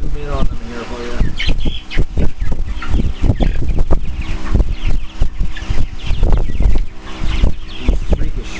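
A flock of Cornish White Rock meat chickens clucks loudly and close, with busy, overlapping bursts of clucks and squawks that barely pause.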